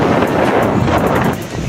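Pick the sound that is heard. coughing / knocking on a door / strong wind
strong wind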